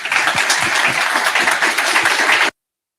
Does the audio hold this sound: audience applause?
yes